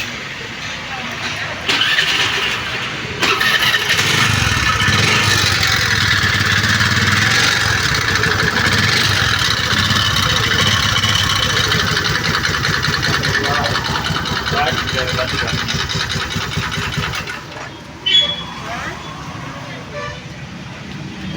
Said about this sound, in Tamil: நான் வண்டியை ஸ்டார்ட் பண்ணுறேன், பாருங்கள் சவுண்ட் எப்படி வருதுன்னு